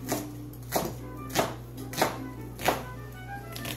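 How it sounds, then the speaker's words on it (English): A knife cuts through an onion on a board, giving five evenly spaced chopping thunks about every two-thirds of a second over a steady low kitchen hum. "Let's go ahead and cut an onion."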